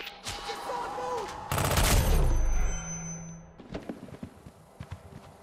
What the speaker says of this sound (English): Someone's firing their gun!